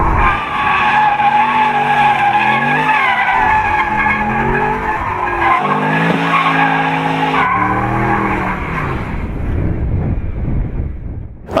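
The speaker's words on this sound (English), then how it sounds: "what would be cooler than having both doors up and just doing, like, victory donuts?" Mercedes-Benz SLS AMG spinning donuts, tires squealing loudly and continuously in long wavering screeches with engine roar underneath, close and intense until the skid fades at the end.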